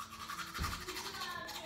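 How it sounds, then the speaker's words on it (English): Brushing teeth with braces using a toothbrush, a steady close wet scrubbing that runs the whole moment with a brief knock near the middle. "You brush your teeth normal"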